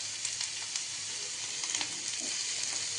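Carrots and other vegetables for pav bhaji frying in a pan over a lowered gas flame, giving a steady, even sizzle throughout with faint stirring crackles.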